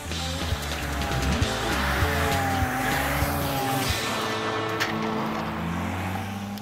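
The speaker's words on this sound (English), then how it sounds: "locks the steering wheel in place and opens the throttle" A car with its steering locked and throttle wide open roars under strain, engine pitch stepping and climbing as it accelerates, loud and close with tire squeal mixed in and no voices.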